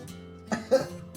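A patient gives a couple of short, close coughs during an abdominal appendix examination, two quick bursts over a faint background hum.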